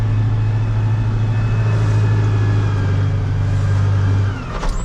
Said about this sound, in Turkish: Traktörü çekti birazcık.